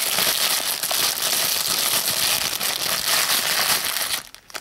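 Plastic packaging of an iPod Touch case crinkles and crackles as hands handle it, dense close-up rustling that runs nearly throughout before easing off briefly at the end.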